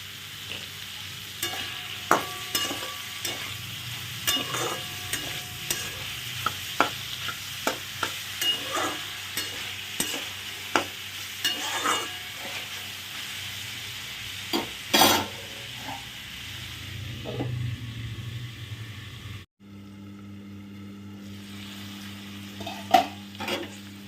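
Onion and green chili stir-fry in a pan for chow mein, with a steady sizzle broken by repeated scraping and clinking strokes of a spatula, then a brief hush before quieter frying resumes.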